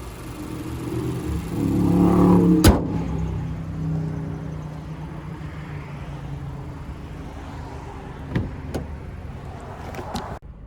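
A 2020 Mazda CX-5 Grand Touring's 2.5-liter inline four-cylinder engine runs with a steady low rumble, swelling briefly near the start, then settling into a quieter hum broken by a few sharp clicks.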